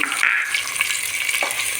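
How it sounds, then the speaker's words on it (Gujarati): Onions and garlic paste sautéing in oil with curry leaves and mustard seeds for a masala dosa potato filling, a steady close sizzle with light stirring scrapes over about two seconds, no talking. "કાંદા લસણ સાતળાઈ ગયા છે"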